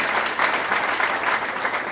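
Church congregation applauding together in the Democratic Republic of Congo, a steady, dense wash of many hands clapping with slight swells, fairly close and continuous throughout.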